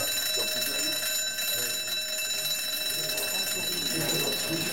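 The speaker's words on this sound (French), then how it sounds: "C'est une alarme qui retentit 3 ou 4 fois par semaine." A continuous electronic alarm rings steadily throughout in a psychiatric emergency ward, loud and shrill, with faint background activity.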